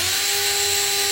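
A power drill whines steadily at close range with a sustained high-pitched motor tone and no pauses, used for holes for bathroom accessories during a basement bathroom renovation.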